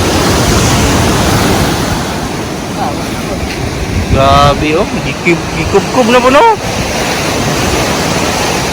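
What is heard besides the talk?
strong wind and sea waves on shore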